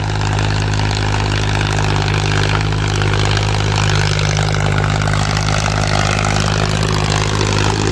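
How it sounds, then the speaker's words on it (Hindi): A 45 HP Powertrac 445 tractor, a 2006 model, runs its engine steadily with a loud, constant low drone and rumble, close by with no voices over it. "बढ़िया चल रहा है ट्रैक्टर जी, 45 HP अपना"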